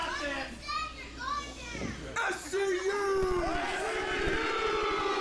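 A wrestling crowd roars and jeers at a tag-team championship match, loud, sustained shouting and chanting with whistles and children's voices rising and falling throughout.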